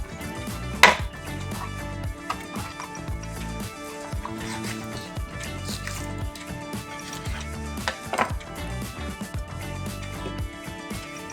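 Knife on a cutting board slicing boneless chicken into long strips, a steady run of soft, close chopping taps with a few sharper knocks, alone without talk.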